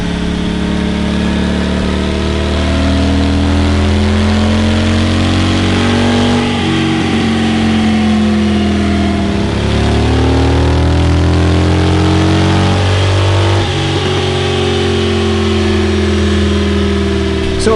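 A Harley-Davidson Road Glide on a dyno, its 107 engine being built up to 128, rumbles loud and close with a steady low idle, rising and falling through several revs and easing back between pulls, with no talking.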